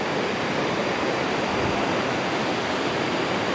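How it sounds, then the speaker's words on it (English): A waterfall near Chiang Mai, Thailand, heard from a viewing platform, roars as a steady, loud, broadband rush of falling water with no pauses and no voices. "You can certainly hear the water, and you should be able to see that."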